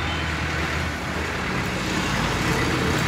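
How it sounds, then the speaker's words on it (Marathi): A large vehicle passes on a road, a steady broadband traffic rumble that holds for a few seconds, with no one talking. "ते बघा किती मोठी गाडी आली."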